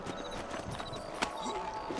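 Horse hooves clip-clop at a steady gait in the PC version of Red Dead Redemption, the rhythmic clopping close and set against a busy outdoor game ambience.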